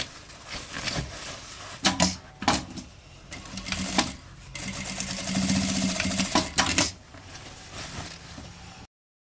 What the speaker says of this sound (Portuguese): Eu vou passar uma costura começando aqui, vindo até do outro lado com retrocesso.